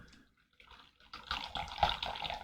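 Near-boiling water is poured over 2011 Biyun Hao Zhengjialiangzi pu'er tea leaves, starting quietly and swelling into a close, splashing stream that runs on to the end.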